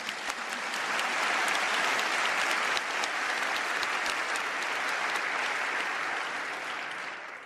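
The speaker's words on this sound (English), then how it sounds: "Round of applause for Sabina" Audience applause at a panel discussion on European inequality, a full, even roar of many hands clapping across the whole stretch, fading slightly at the close.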